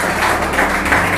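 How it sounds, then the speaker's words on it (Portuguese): A church audience applauds at a televised interview, with a dense, even wash of clapping throughout a brief moment and no speech. "Gostaria que a minha plateia aqui recebesse Guiomar com uma salva de palmas."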